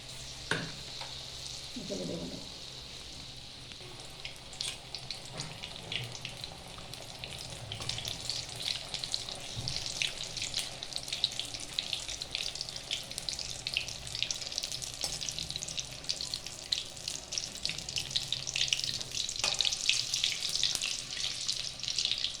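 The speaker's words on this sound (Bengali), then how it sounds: "আস্তে আস্তে ভাজা হোক" Malpua batter, made from banana, frying slowly in oil with a soft, steady sizzle and occasional bubbling, faint at first and growing a little louder toward the end, with brief utensil sounds and no speech.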